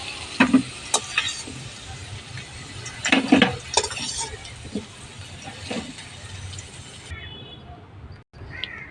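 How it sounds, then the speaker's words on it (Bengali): Potatoes frying in a pan of oil while being stirred, with a soft steady sizzle and a few louder scrapes and clinks of the utensil against the pan. "এবারে আলুগুলো ভেজে নেব।"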